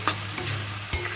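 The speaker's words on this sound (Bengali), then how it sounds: "মশলা ভালোভাবে কষানো পর্যন্ত আমরা অপেক্ষা করছি" Spice paste for chicken keema curry with turnip sizzles in oil in a pan, a steady close fry broken by a few sharp stirring scrapes, with no talking.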